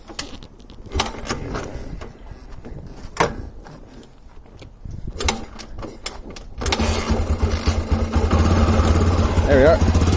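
A 1990 Honda Baja XLR250R motorcycle engine catches and settles into a steady, loud idle with rising revs, following scattered knocks and kick-start attempts while someone talks intermittently.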